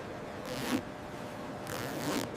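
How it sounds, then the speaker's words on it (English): A zipper on a snake leather bag is pulled twice during factory functional testing, each a short raspy zip separated by about a second, close and fairly quiet, with no talking. "Zippers undergo repeated functional tests."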